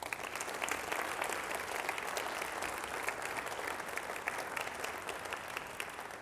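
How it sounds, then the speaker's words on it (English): Sustained audience applause fills a school-district State of Our Schools 2023 event, dense and steady throughout with no voices over it. "That's worthy of another round of applause"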